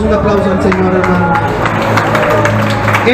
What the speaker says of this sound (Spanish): Le regalamos un aplauso al Señor